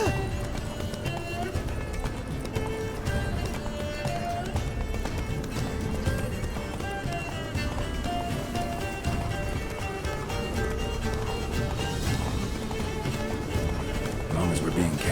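In The Witcher 3: Blood and Wine, a horse gallops with rapid, steady clip-clop hoofbeats throughout while voices talk over the running.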